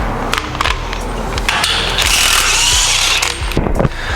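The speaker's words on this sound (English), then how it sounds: "You're just gonna use a 1/2 inch impact to get this off." A 1/2 inch impact wrench removing a 32 mm axle nut on a Nissan 370Z, loud rattling hammering bursts with mechanical clatter, close and continuous for several seconds.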